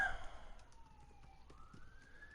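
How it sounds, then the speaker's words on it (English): Police siren from the WWE 2K18 wrestling video game, a single wailing tone gliding down then rising again, moderately faint and steady with no talk over it. "Sirens."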